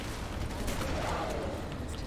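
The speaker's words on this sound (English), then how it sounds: "Instantly shoot some aliens in the face with a shot cannon." Shot cannon blasts from the video game Alien Breed Impact, loud continuous gunfire-like bursts filling the short stretch with dense, noisy impact.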